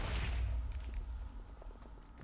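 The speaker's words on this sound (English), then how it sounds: "So many explosions." Explosions in the Minecraft video game during a speed run, a dense low rumbling of booms and thuds strongest at the start, then scattered softer blasts and impacts without talk.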